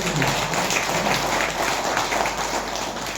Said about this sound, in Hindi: एक बार तालियां बजाएं अपने ब्रांड के लिए।